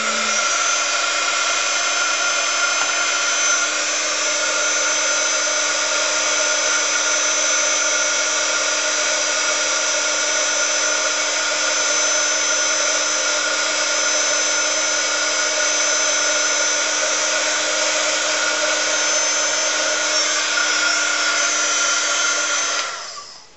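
Handheld heat tool blowing steadily to set embossing powder on a Yeti tumbler, a loud continuous whirring drone with fixed pitch that runs unbroken for over twenty seconds before cutting off.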